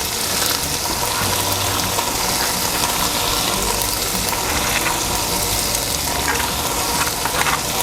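Red bell pepper and red onion frying in a pot for Haitian chicken wing stew, a loud, steady close sizzle with faint stirring scrapes running throughout.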